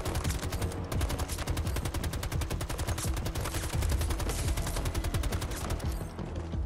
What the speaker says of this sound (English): you're going to switch it to the champion muzzle brake and it slows down the rate of fire